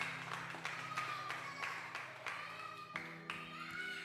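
A church congregation claps along during an evening worship service, with steady rhythmic hand claps under a sustained tonal background of music.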